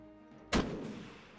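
A single loud gunshot fired in the turn-based tactics game Jagged Alliance 2, a sharp booming blast standing alone with a short rumbling tail that fades over the next second.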